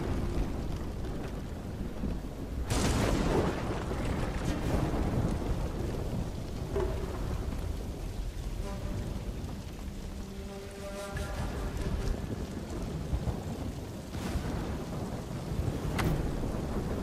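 Thunder crashes through a steady downpour in the Ghost of Tsushima video game, with a sharp lightning crack near the start and a rumbling roll later, over constant loud rain and a few tonal game sounds.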